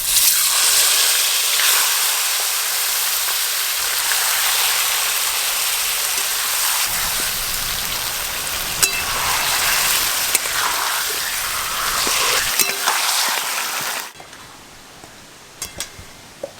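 Chicken pieces coated in spices sizzle and fry steadily in hot oil for biryani, a continuous hissing crackle that holds for most of the time before dropping to quieter scattered pops near the end.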